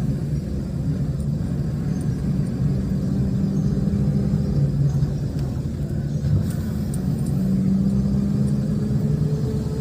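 A car creeps along slowly in first gear at about 10 to 15 km/h, its engine a steady low rumbling drone heard from inside the cabin, constant throughout with a slight rise in tone later on.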